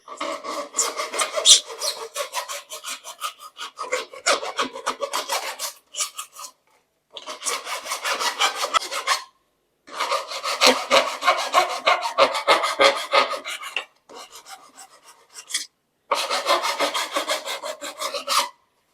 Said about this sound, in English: So we are going to use a half round file for this.